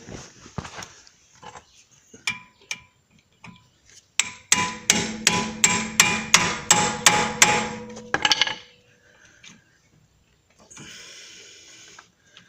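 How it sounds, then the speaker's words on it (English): An impact driver fitted with a T40 Torx bit works loose a front CV axle bolt on a Mercury Montego or Ford 500, hammering in a loud, fast burst of rattling blows, with scattered clicks before and after. "the easiest way to do it is to use what we call an impact driver"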